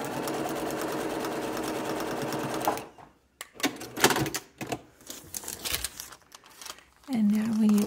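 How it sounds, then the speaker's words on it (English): A sewing machine stitches a fabric seam in a fast, steady mechanical chatter for about three seconds, followed by quieter handling of cloth, then a brief whir as it starts again. "Pop that in the machine and sew that seam."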